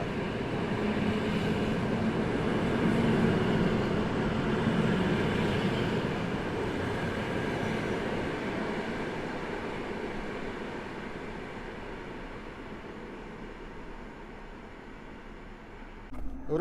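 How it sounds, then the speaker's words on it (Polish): An Interregio passenger train running from Warszawa Główna to Łódź Fabryczna rumbles through Warszawa Zachodnia station, a continuous rolling wheel-and-rail drone that slowly fades over about sixteen seconds. "Pociąg Interregio z Warszawy Głównej do Łodzi Fabrycznej."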